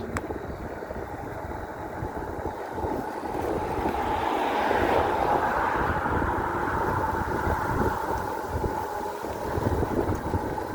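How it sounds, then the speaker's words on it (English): Strong gusting wind buffets the microphone outdoors on a blustery day, a continuous low rumbling roar that swells louder midway and stays steady throughout, with no voices. "It is really windy today."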